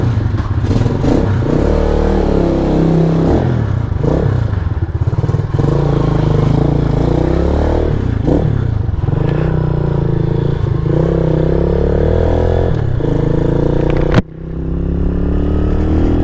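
A Venom SS3 / KP mini 150 motorcycle engine runs loud and close after starting, idling with repeated revs rising and falling and a sudden clunk near the end before it settles back into idle.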